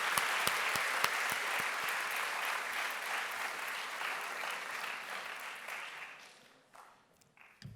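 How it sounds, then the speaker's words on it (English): A conference audience at a Model United Nations opening ceremony applauds the chairs and rapporteurs, dense sustained clapping from a large crowd that holds steady, then thins and fades out over the final seconds. "can you please join me in giving a round of applause for the GMUN 2016 chairs and rapporteurs"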